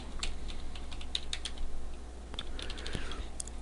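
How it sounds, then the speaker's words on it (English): Soft, rapid keystrokes on a computer keyboard, clicking in quick irregular bursts with brief pauses, close and fairly quiet with no talking. "I'll type scrolling"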